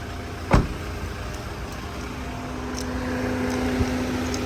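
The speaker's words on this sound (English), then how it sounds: "So now we're starting the engine," A 2022 Toyota Hiace Commuter van engine starts with a short sharp crank, then settles into a steady low idle hum that continues to the end, close and with no talking.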